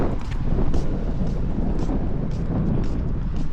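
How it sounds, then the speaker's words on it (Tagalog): Strong, cold wind in New Zealand buffets the microphone in a steady, roaring rumble with gusty swells, loud and close throughout, with no one speaking. "Malakas yung hangin."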